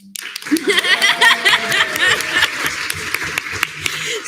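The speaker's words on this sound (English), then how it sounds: "give him a round of applause" Applause and scattered cheering from a crowd at a student government senate meeting, with some laughter mixed in, steady throughout.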